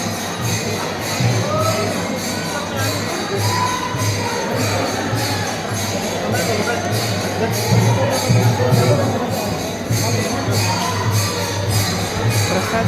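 A temple crowd at Akkalkot fills the space with a continuous murmur of many voices and shuffling footsteps, a dense hubbub that stays at an even, fairly loud level throughout.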